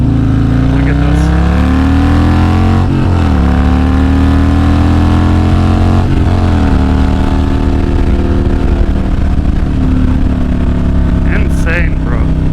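Harley-Davidson performance bagger motorcycle with a Stage II cam, its engine revving loudly and continuously nearby, with pitch rising and falling across repeated throttle blips while a person talks over it.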